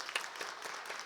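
Brief, fairly faint applause from a church congregation during Sunday worship, with a few distinct claps standing out from a soft, scattered patter.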